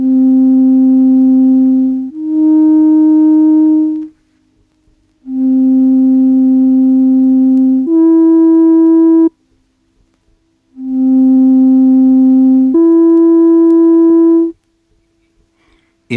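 Pure electronic sine tones sound in pairs forming precisely tuned third intervals, a lower steady tone stepping up to a higher one, three times with short gaps; loud, clean and alone.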